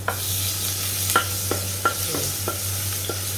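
Garlic stir-fried in a pan hisses steadily while a spatula scrapes and taps the pan in a loose rhythm of about six strokes, close and clear with no voices.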